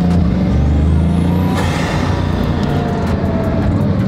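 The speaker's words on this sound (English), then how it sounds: "All you did was accelerate to 30 and it's making like whooshes and washes" A Bugatti Chiron Pur Sport accelerating, a loud, steady roar with a rising whine and whooshing air, heard up close throughout.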